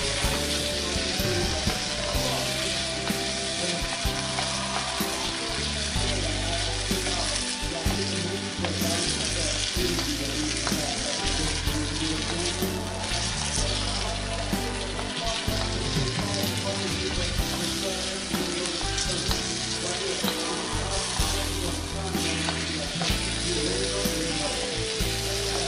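Crushed garlic fries in a pan for a pork and radish dish, making a dense, loud, continuous crackle that runs the whole time, with rattling, ratchet-like clatter over it and no clear talk.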